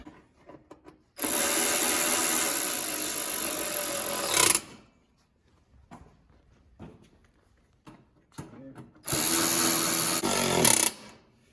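A power tool tightens bolts on a John Deere lawn tractor gas tank in two long, loud, steady whirring runs of about three seconds and two seconds, separated by quieter clicks and handling noises.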